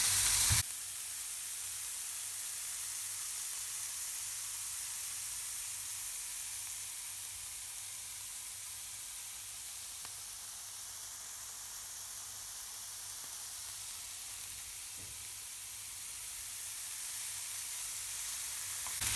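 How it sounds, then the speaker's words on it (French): Lardons frying in a pan for a quiche, a steady, even sizzle held throughout with no pauses and no voices. "Et maintenant, on vient verser la totalité dans la poêle. On va juste le faire revenir 1 minute"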